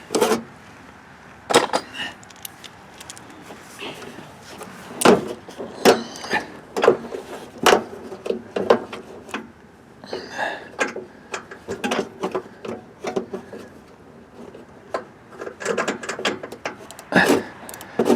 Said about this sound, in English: Now we've got to get the spark plug wrench on it.